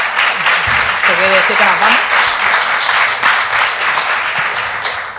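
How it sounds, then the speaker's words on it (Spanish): Dense, steady audience applause fills the hall at the close of a lecture on the Granada landscape in the Andalusi period, continuing throughout while someone speaks briefly over it. "¿Por qué aplauden?"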